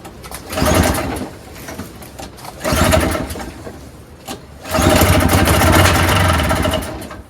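A flooded, run-down Craftsman single-stage snowblower with a 5HP Tecumseh engine runs on its own in bursts, loud and close, its rough idle rising and falling between short pauses.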